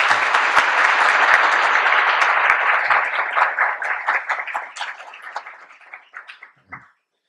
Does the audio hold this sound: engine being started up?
no